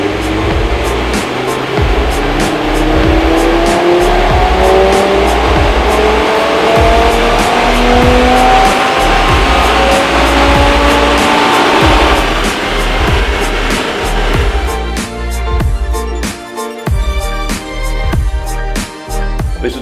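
An Audi TT RS with an APR Stage tune roars at sustained full throttle during a dyno measurement run, engine note loud and steady, then dropping to a lumpier, crackling idle near the end.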